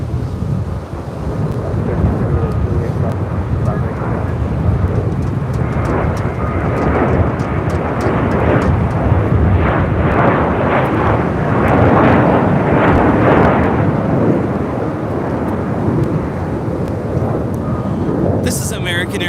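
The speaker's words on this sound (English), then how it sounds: "This is American Airlines 2837 taking off to Charlotte on an A321 in the stand-up to cancer livery." An American Airlines Airbus A321 jet takes off in rainy, gusty conditions, its engines building into a loud, sustained roar mixed with wind buffeting on the microphone and people talking.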